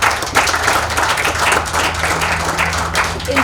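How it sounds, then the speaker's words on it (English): An audience at a township entrepreneurs' stakeholder and media event in Gauteng claps warmly, a dense, sustained round of many hands over a low hum, with faint voices mixed in. "Can we give them a warm hand of applause?"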